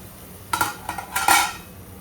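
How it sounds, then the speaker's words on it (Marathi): A metal lid comes off a pot of crab curry, making a short burst of clanking and scraping metal that sounds twice in quick succession. Quiet surrounds it before and after, and nobody talks. "चला, आता मी झाकण काढून घेते."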